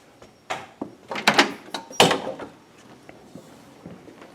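Door of a former library turned restaurant opening and closing: a series of close wooden clunks, rattles and knocks clustered over a couple of seconds, then fading into quiet room noise.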